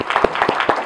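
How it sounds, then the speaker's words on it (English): An audience at a live event breaks into a short round of applause, dense close clapping with a few louder claps and cheers standing out over a brief burst. "we'll give a round of applause"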